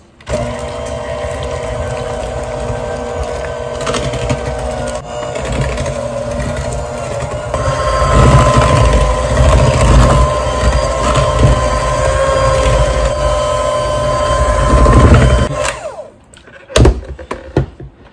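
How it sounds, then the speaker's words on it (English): An electric mixer runs on low speed through Oreo cake batter for a Betty Crocker recipe. It makes a steady whirring drone that grows louder midway, then cuts off near the end, followed by a few clunks. "with an electric mixer, mix on like a low speed for 30 seconds"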